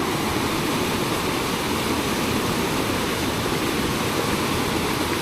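A river rushes over large rocks in a continuous broadband roar, steady and close, with no talking.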